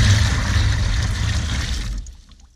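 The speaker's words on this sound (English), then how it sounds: "I'm going to add 1 gallon of warm water" Steady rushing of 1 gallon of warm water pouring into a container for hydrated lime whitewash, a full continuous stream that tapers off near the end.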